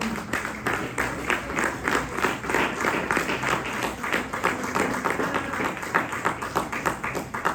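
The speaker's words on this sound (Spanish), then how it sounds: "Denle un aplauso al Señor" A church congregation at a Spanish-language worship service claps together in a steady, rhythmic burst of applause that stays loud and even for the whole stretch.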